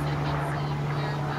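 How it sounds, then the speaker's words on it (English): Steady low droning rotor hum of helicopters overhead with a constant tonal drone, continuous and fairly loud throughout. "Helicopters."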